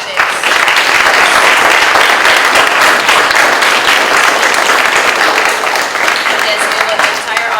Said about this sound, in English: Let's give a round of applause for our candidates.